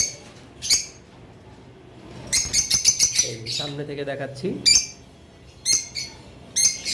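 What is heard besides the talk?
lutino red-head lovebirds calling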